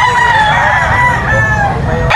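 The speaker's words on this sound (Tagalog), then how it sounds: "Ayan po yung mga manok ni Boss Joey" Gamefowl roosters in a Filipino grotto crow loudly and repeatedly, several birds overlapping at close range over a steady barnyard din, with no talk.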